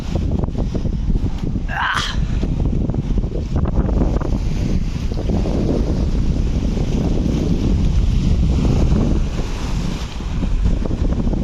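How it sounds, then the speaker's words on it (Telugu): Strong wind off the sea in Kuwait buffeting the microphone, a steady loud roar with gusts throughout, and surf rumbling underneath. "గాలి ఫుల్గా ఉంది ఇక్కడ."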